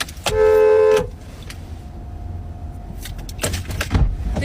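Car door slamming shut with a loud close thud, preceded by a short car horn blast, then quieter cabin rustling and further bumps inside a parked car.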